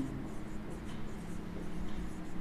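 Pen scratching across paper while a maths induction proof is written out, a soft continuous scribble close by with faint breathy voice traces beneath.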